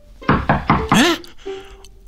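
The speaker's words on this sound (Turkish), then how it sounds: "Kapı çalıyor." Cartoon door knocking: four loud, evenly spaced knocks up close, followed by brief tonal cartoon sound effects.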